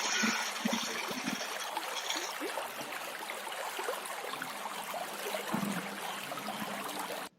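A bubbling stream trickles and gurgles steadily close by, a continuous watery babble that cuts off abruptly at the end.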